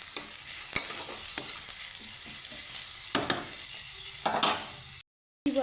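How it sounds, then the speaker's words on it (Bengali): Chopped tomato hitting hot oil with ginger and garlic, sizzling and frying while a spoon stirs and scrapes the pan in several clattering strokes, close up, ending in a brief silence. "এখন আমি এই পর্যায়ে দিয়ে দিব বড় সাইজের একটা টমেটো কুচিয়ে রাখা"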